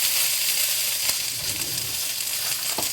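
Pork dumplings fry in a pan with a steady, close sizzle and hiss, a soft crackle rising briefly in the middle.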